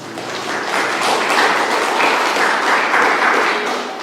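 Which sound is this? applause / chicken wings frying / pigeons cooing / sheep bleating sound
applause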